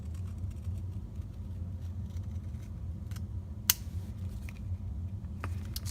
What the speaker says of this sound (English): I'm going to trim off the edge of this circle